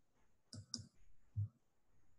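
Two quick mouse clicks close together, then a duller tap, all faint and alone with no voice, while export settings for references are being chosen in a web page.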